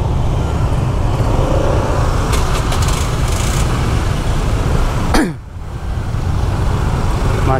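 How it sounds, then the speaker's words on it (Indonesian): Road traffic in a long jam in the Umalas area of Canggu, Bali: a constant close rumble of cars and motorbike engines, loud throughout, with a vehicle passing near the end. "Macetnya panjang teman ya."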